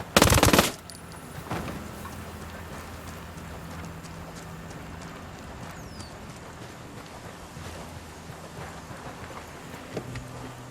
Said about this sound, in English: I got a Sicario with a submachine gun.